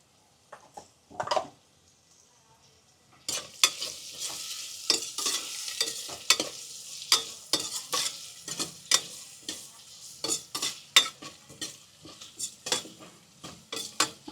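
Cabbage and other vegetables being fried in oil and stirred: after a near-silent start, close, steady scraping and clinking of a utensil against the pan over a light sizzle, with no talking.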